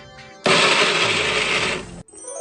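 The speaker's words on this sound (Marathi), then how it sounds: "हे मिश्रण आता गार करत ठेवायचं आहे आणि मग मिक्सर मधनं वाटून घ्यायचं आहे" A mixer grinder runs in one loud burst of about a second and a half, whirring through cooked tomato chutney, with a quiet room before and after.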